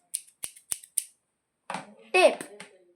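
Four sharp, quick scissor snips in a row, cutting a pen cap, followed by someone speaking briefly.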